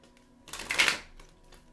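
A quick riffling burst of tarot cards being shuffled, a single papery flutter rising and fading in about half a second, quiet and close.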